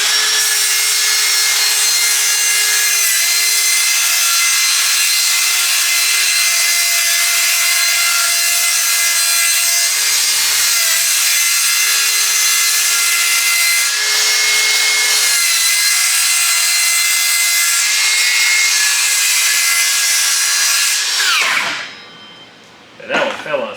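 A power saw whines steadily through a wooden shiplap board for a long cut, loud and close, then winds down at the end.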